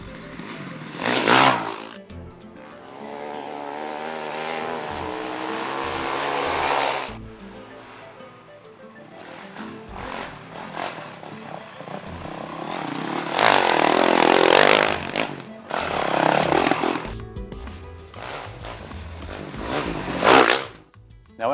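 A 2012 Honda CRF450X dirt bike, built up as a Baja-style machine, rides through Maramara Forest. Its engine revs and surges in several loud bursts with quieter gaps between them, rising and fading as it passes.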